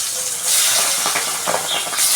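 Fish rubbed with turmeric and salt fries in hot oil in a pan, giving a loud continuous sizzling hiss with sharper spitting bursts, and no voices.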